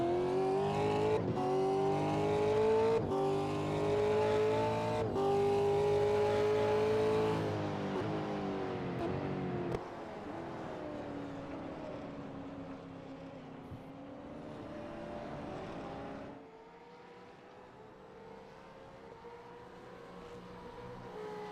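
V8 race car engines in a racing simulator at Donington Park, a loud, continuous engine roar that revs up and down through gear changes, close to the listener, then settles to a lower, fainter drone.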